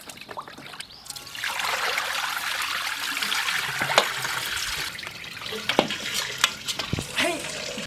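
Lamb tendons, still slightly frozen, are washed by hand in water, with close sloshing, swirling and trickling plus a few sharp splashes and clinks.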